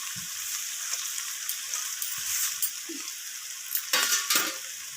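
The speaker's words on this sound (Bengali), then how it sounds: "তো সুজিটা দেওয়ার পর আমি এইভাবে সব কিছুর সাথে নাড়াচাড়া করতে থাকবো।" Semolina (sooji) being stirred in a frying pan with already-fried ingredients, a soft continuous sizzle under scattered scraping and clinks of the spoon against the pan, a few sharper knocks near the end.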